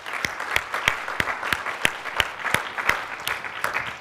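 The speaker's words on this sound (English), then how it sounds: "let's give her a round of applause for putting this whole curriculum together" Conference audience clapping at a Biomedical Engineering Society annual meeting session, a steady wash of many hands with sharper individual claps standing out, sustained and fairly loud without talk.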